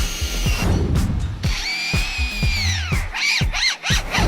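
A lyrebird imitates a power drill, with rapid whirring bursts, a rising and falling whine and short mechanical clicks, heard up close and loud with no talking.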